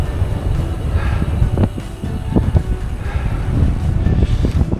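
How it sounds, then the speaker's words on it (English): Strong wind buffets the microphone outdoors near a finish marker by a van, a continuous rough roar with gusty swells and thumps, loud and close, with no talking. "I wasn't lying about the wind"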